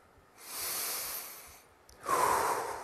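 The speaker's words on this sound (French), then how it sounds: "on expire par la bouche, les lèvres finement pincées." During a relaxation breathing exercise, a person draws one soft breath in through the nose, then breathes out through lightly pursed lips with an airy hiss and a faint whistling tone, close and quiet, with no talking.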